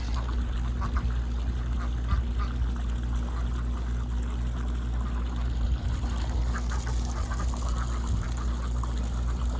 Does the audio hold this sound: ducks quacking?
yes